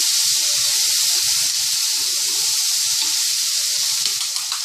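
Minced garlic and salt sizzling in oil in a pan, a loud, steady hiss that runs without a break over low scraping, close up, with no talking.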